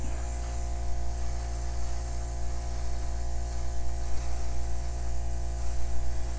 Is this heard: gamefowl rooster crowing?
no